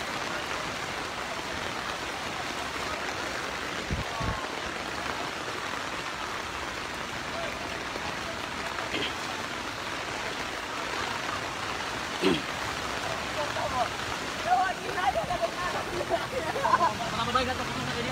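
Floodwater rushing steadily during Typhoon Odette, a broad, continuous wash with rain-like hiss. Occasional thumps and voices sit faintly underneath.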